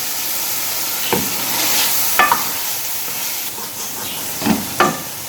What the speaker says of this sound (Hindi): तीन अदद हमने सब्ज़ मिर्चें डाली हैं। आपने अच्छी तरह तो फ्राई करना है।